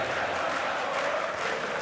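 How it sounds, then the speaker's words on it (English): A darts crowd at the German Darts Grand Prix fills a hall with a steady roar of chanting and cheering, dense and continuous throughout with no clear single voice. "And the crowd starts singing the Dutch destroyer's name"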